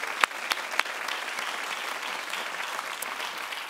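An audience applauds for Brooklyn at a live talk event, with a few sharp separate claps at the start blending into a steady round of moderate clapping that continues for a few seconds.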